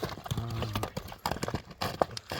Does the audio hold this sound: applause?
no